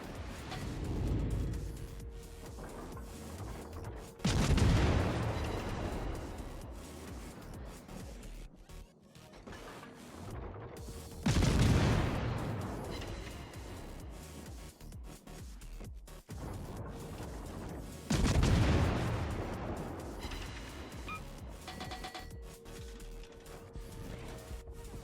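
Guns of a Tier V American cruiser, USS Omaha, in World of Warships: three heavy, booming salvos spaced several seconds apart, each swelling and rumbling away against a steady low hum of the game's background.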